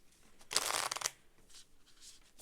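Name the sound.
shuffling tarot cards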